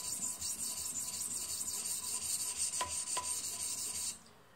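A knife blade scrapes back and forth on a sharpening stone in a TSPROF KO3 guided sharpener, a close rhythmic rasping rub in repeated strokes that stops abruptly near the end, no talking.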